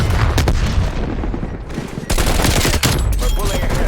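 Gunfire in the video game Call of Duty: Cold War during a team deathmatch, dense loud bursts of rifle and automatic fire with heavy booms, nearly continuous and close.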